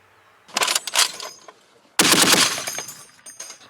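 Two loud bursts of rapid automatic gunfire from a Browning M2 machine gun, a short volley followed by a longer sustained one, sharp and close with brief silence between.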